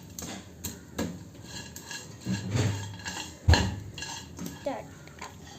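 A spoon scrapes and clinks against a pan while stirring adai and caramelised sugar for caramel palada payasam, giving irregular close metallic knocks and scrapes with one sharper clank, with no speech.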